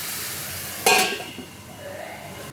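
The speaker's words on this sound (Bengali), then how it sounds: "এখন আমি অল্প একটু জল দেবো" A splash of water hits ridge gourd cooking in a hot pan, a sudden bright hiss bursting out and then settling into a softer, fading sizzle.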